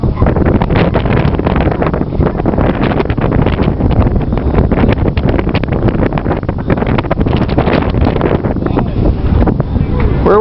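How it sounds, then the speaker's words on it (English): Boat under way in strong wind, heavy constant wind buffeting the microphone over a low engine and water rush, with faint voices now and then. "Where's this boat gonna take us to?"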